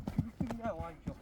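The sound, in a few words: horse hooves clip-clopping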